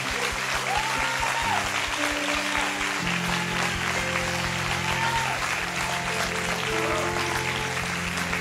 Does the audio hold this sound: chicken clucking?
no